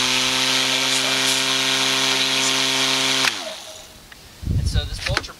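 A Neuton 6.2 battery lawn mower runs with a steady whining electric motor hum that abruptly winds down, followed by a few close clunks and rattles.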